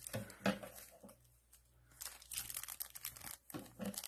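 Scissors snip open a Pokemon 25th Anniversary cereal card pack, giving crisp crunching and crinkling cuts of foil wrapper in a few short bursts, close and moderately loud, with quiet pauses between them.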